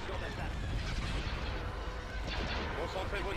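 Heavy sci-fi ion cannon blasts from a planet rumble continuously in a Star Wars rebellion video game, dense booming bursts with crackling energy, loud and unbroken throughout.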